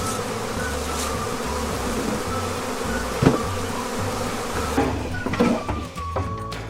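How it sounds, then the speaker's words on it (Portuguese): Thousands of honeybees swarm around a hive as beekeepers pull heavy wax frames of honey during a harvest in China, a dense continuous buzzing hum with occasional knocks and clatters near the end. "os apicultores precisam enfrentar diretamente milhares de abelhas que protegem a colmeia"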